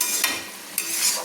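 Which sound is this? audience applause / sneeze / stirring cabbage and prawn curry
stirring cabbage and prawn curry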